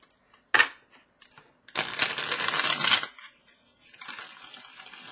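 A brisk riffle of tarot cards, then a longer stretch of rapid papery shuffling, followed by softer shuffling near the end, close and clear with no talk.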